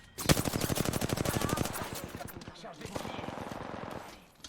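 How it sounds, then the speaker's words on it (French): Rapid automatic gunfire in Apex Legends, a dense burst of shots for about two seconds, then a second volley, loud and close with a voice speaking briefly underneath. "Ces andouilles me tirent dessus."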